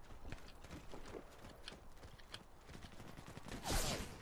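Distant gunfire sounds in the video game Warface while the player is being shot at from two sides: faint, rapid bursts of shots crackle low in the mix, followed near the end by a brief louder whoosh.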